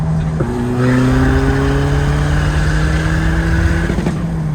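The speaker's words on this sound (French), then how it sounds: "on va se satelliser en fond de 6 avec Alex." A car with loose cylinder head bolts runs flat out in sixth gear, its engine giving a loud, steady droning hum near the microphone. The pitch shifts slightly and holds at a constant high level.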